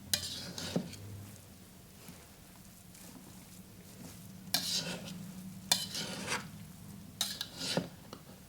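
A celery, onion and broth mixture is stirred in a pot, giving a low bubbling sizzle with several sharp spoon scrapes and clatters against the pot, close and fairly quiet, without speech.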